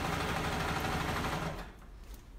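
Household sewing machine running steadily while restitching a pillow seam to catch the gray fabric, a dense, continuous mechanical whir that holds for about a second and a half before cutting off, leaving quiet room tone.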